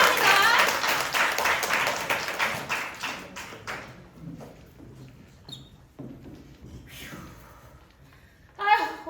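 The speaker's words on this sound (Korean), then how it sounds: "여러분 박수 부탁드립니다" An audience at an improv show bursts into brisk clapping that fades over several seconds, followed by quieter shuffling and a short spoken voice near the end.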